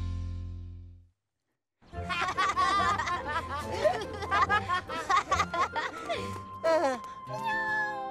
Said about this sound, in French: Oh, un chaton! On t'a abandonné?